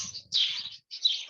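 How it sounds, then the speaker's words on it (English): Birds in cages inside a busy room at a wild bird sanctuary give two bright, high chirps in quick succession, close and fairly soft, with no talking. "we're going to see the birds that are still inside"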